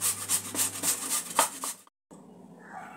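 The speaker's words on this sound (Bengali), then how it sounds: "প্রথমে আলুটা আমি গ্রেট করে নেব" A raw potato rubbed over a kitchen grater gives a quick run of close, rhythmic scraping strokes, then stops abruptly; a quiet room tone follows without talk.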